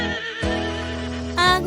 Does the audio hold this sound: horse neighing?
yes